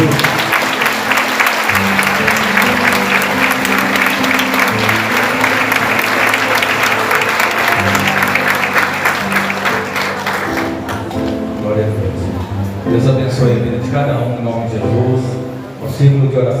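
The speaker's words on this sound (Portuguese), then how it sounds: "Vamos dar uma linda salva de palmas para o Senhor Jesus." A church congregation claps at an anniversary service, a dense round of applause under music and a voice, then thinning out as singing and speech carry on.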